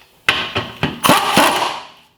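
An impact gun with a 17 mm socket hammers a rusted rear shock bolt on a 2003-2009 Mazda in a few quick rattling bursts, close and loud, ending in a short final run before stopping.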